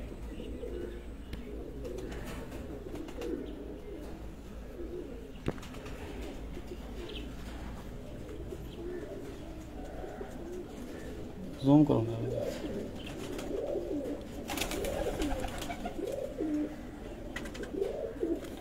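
Pigeons at a home pigeon show in Sargodha coo softly and intermittently in the background, with someone talking over them throughout and a brief flutter near the middle.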